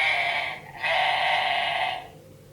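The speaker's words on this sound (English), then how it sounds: "Don't tickle the sheep, you might make it baa." A recorded sheep baa plays from an electronic touch-and-feel children's sound book, two bright, buzzy bleats in quick succession with a short gap, clear and close with no talking.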